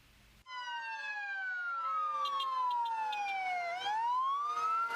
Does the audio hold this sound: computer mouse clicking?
no